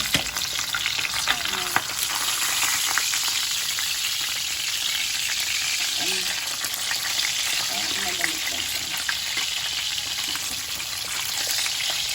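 Dried milkfish (daing na bangus) frying in a pan, a steady dense sizzle and crackle of hot oil running throughout, with faint scraping or handling sounds near the middle and no talking.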